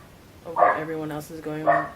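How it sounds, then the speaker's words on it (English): A household dog barks a couple of times close by in Australia, sharp yelps rising over a person talking steadily. "That's my dog."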